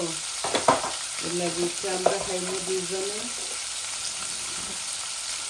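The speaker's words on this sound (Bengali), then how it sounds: "আমার মাছগুলা ভাজা হয়ে গেছে" Rohu fish pieces fry in hot oil with a continuous sizzle, while a voice speaks briefly over it early on and the crackle carries on alone afterward.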